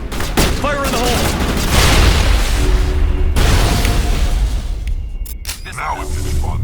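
A grenade goes off during a Mass Effect battle, a loud boom amid bursts of gunfire and heavy explosions, with voices shouting in the middle of the fight.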